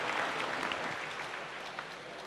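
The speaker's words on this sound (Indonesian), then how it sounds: "Kita berikan aplaus." Applause from an audience at an Islamic religious question-and-answer lecture, a brief, fairly faint burst of clapping that holds steady and then fades slightly.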